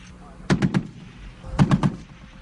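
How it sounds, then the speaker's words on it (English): A 50 caliber heavy machine gun on a Stryker wheeled armored vehicle fires two short, evenly spaced three-round bursts, each shot a loud sharp thump with a booming tail, set against a quiet background. "a 50 caliber heavy machine gun"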